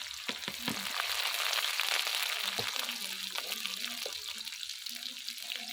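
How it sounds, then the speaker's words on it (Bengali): Chopped onion and green chilli frying in hot oil in a pan, a steady soft sizzle with occasional stirring clinks and scrapes. "পেঁয়াজটা ভালো করে লাল করে নেব"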